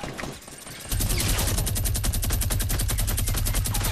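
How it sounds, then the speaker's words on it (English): Gunfire in the Fortnite video game, where a player gets sniped, arriving after a short quiet opening as a loud, rapid, sustained burst of evenly spaced shots. "Wow, I just got sniped."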